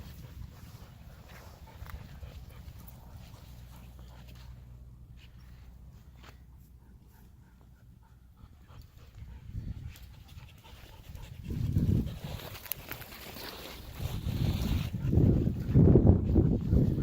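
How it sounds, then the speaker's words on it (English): A dog pants heavily outdoors on a hillside at a fault scarp in the Tularosa Valley, with soft footsteps nearby; the breathing grows louder and more rhythmic toward the end, with occasional snorts. "Probably a dog."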